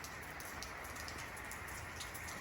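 Steady rain falling outdoors after a night of grilling on a Solo Stove, a constant soft hiss of drops on surfaces with no voices, even and moderately quiet throughout.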